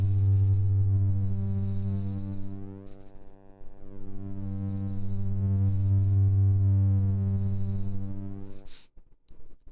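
Sine wave clipped to the lower part of its voltage range by an ANA 2 synthesizer module, giving a steady buzzy tone with bright harmonics that holds for most of the span before dropping out near the end.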